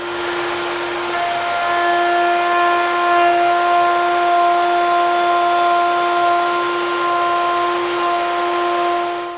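A power tool whines steadily as it machines a groove along the back edge of a wooden board for a shadow box cabinet, loud and close with a constant high-pitched tone throughout, no voices.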